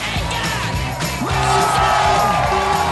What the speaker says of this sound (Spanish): ¡Un aplauso para el asador!